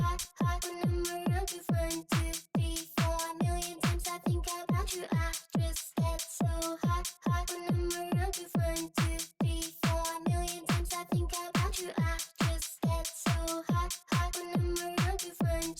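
An electronic beat loops steadily with a kick drum, hi-hat and clap, its short, snappy hits layered over sustained tonal music in a tight, even rhythm.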